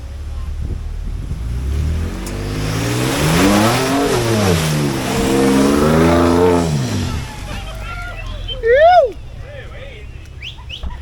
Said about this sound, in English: That Ranger is actually the V6 twin turbo one, petrol.